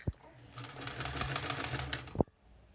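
A sewing machine stitching the top and bottom edges of a fabric face mask runs in a close, steady whir for about two seconds, bracketed by two soft thumps, with a voice speaking over it.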